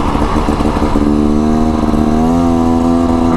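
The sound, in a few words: Beta Xtrainer dirt bike engine riding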